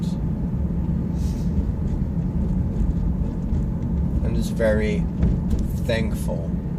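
Steady low road rumble and engine drone of a car driving along, constant throughout, with a person talking over it near the end.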